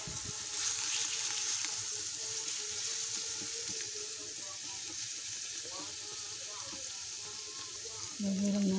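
Garlic sizzles in hot cooking oil for kabsa, a steady bright crackle running throughout, with a voice speaking over it.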